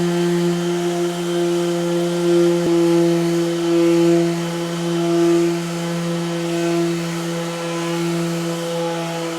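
A power sander rounding over the edge of a new wooden door, running as a steady loud tonal whine with slight swells in pitch and level, no talk.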